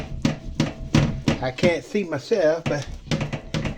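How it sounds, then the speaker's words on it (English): Dull, regular thumps and scrapes of a wooden spoon kneading pizza dough in a bowl, close by, under a person talking. "I knead with the spoon"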